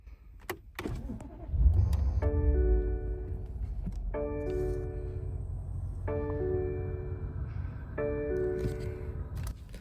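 A 2021 BMW M850i Gran Coupe starts with a short crank and a loud engine catch, then settles into a deep steady idle while repeated electronic chimes ring from inside the cabin.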